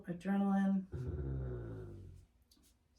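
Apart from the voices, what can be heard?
dog noise in room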